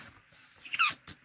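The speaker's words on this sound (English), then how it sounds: "excuse the little squeaky sound. I am bending my folds in the book so that it bends and it doesn't tear." A few short squeaks come from paper folds being bent in a handmade junk journal book, close and fairly quiet against a still room.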